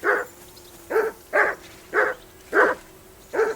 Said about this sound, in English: I assume you can hear that damn dog of yours.